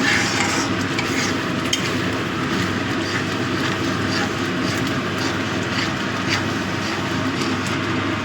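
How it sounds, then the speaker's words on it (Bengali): A cauliflower curry is stir-fried in a pan, giving a continuous low sizzle with scraping and stirring noises at an even level and no talking. "ভালো করে কষিয়ে নিচ্ছি।"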